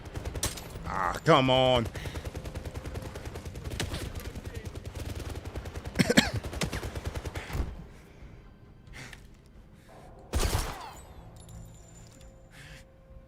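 Gunfire in the video game First Light, with dense rapid bursts through the first half, a sharp crack near six seconds and another heavy burst later, while a voice sighs and speaks briefly over it.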